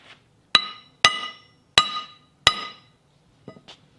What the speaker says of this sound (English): we're going to go ahead and grab a hammer and hit it a couple times to see how durable this stuff is